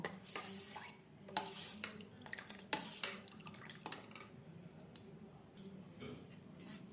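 Custard ice cream mixture mixed in a bowl with milk powder: quiet clinks and scraping strokes of a spoon against the bowl in an irregular rhythm, faint and close, no talk.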